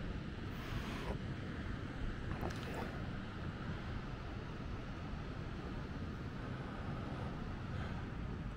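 Ocean waves roll in at Maspalomas beach on Gran Canaria on a calm, windless early morning, a steady broad wash of surf with a few slightly stronger surges, heard alone.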